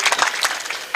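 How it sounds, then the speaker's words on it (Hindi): An audience at a mushaira claps, a dense, continuous wash of applause from a seated crowd, fairly loud and steady through the moment. "एक बार जोरदार तालियां पूरा आगे से पीछे तक बजाएं अपने राज बहादुर साहब के लिए"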